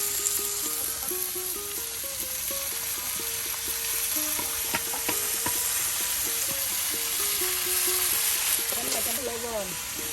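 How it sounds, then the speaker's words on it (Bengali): Finely chopped potatoes frying in a hot pan in a village kitchen make a steady sizzle and hiss, with occasional stirring clinks and faint background chatter and music-like tones. "এখন এই যে মিহি করে কেটে নেওয়া ঝরঝরে আলু কুচি এই যে দিয়ে দেওয়া হলো"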